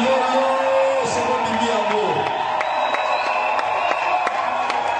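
A church congregation at a French-language prayer service lets out loud cries of joy, a crowd roar of shouting that starts over a preacher's voice and then carries on dense and sustained.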